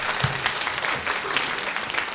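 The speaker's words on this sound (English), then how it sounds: "Give her a round of applause." A church congregation at a Sunday service gives a brief round of applause, even scattered clapping from a modest crowd heard from a moderate distance.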